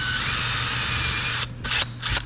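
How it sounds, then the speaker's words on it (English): A power drill fitted with a 1/8 inch bit pre-drills a shallow pilot hole for a motor mount, giving a steady, close whine for over a second, then two short separate bursts of spinning. "I'm going to pre-drill just a little bit"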